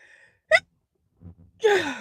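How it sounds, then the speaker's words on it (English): A person inhales with a sharp gasp, gives a short catching breath, then lets out a loud, close sneeze that trails off in a falling, breathy tone. "Oh my god, I have to sneeze."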